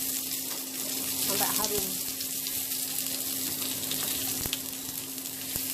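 Garlic sautéing in a pan for a beef soto, a steady close sizzle and crackle of frying with occasional stirring clinks, and a brief voice speaking over it.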